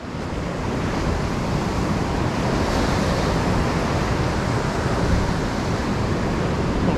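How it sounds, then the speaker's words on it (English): Ocean surf breaking on a rocky shore in South Australia, a steady, loud, broadband roar of waves and wash that continues unbroken without pause, with some wind buffeting the microphone. "You can see the waves coming right up to here, yeah?"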